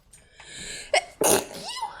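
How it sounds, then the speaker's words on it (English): A single sharp sneeze with a quick breathy intake before it, close and fairly loud against quiet game background sound. "I have to sneeze."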